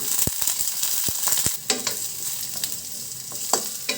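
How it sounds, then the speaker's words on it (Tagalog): Carrots and saba bananas fry in hot cooking oil, a steady close sizzle broken by several sharp clinks and scrapes of a utensil stirring the pan, with no one talking. "Prituhin na natin ang ating carrots. Isasabay na rin natin ang ating saging saba."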